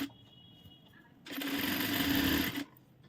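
A sewing machine stitches the lining of a blouse in a single steady whirring burst of just over a second, starting and stopping abruptly against a quiet room.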